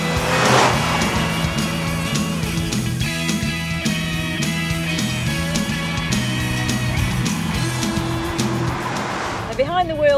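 A Volkswagen Golf GTI Mark II, a car with no power steering and no ABS, drives with its engine note rising and falling through gear changes, loud and close, with someone talking over it.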